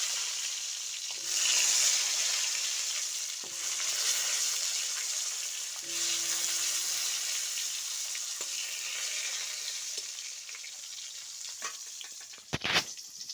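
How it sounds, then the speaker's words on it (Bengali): Eggplant slices sizzle steadily in hot oil in a wok, a loud bubbling hiss broken by a few brief clatters as they are stirred, with a sharper scrape near the end. "কড়াইয়ে তেল দিয়ে দিয়েছি, তেল গরম হয়ে গেছে। দেখো বেগুনগুলো দিচ্ছি।"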